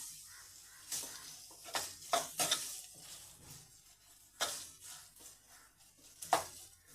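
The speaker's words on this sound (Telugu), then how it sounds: "కొంచెం ఫ్రై కానిద్దాము." Carrot and beetroot fry in a pan, mostly heard as intermittent scraping and clinking strokes of a utensil stirring the vegetables over a faint sizzle, quiet and close.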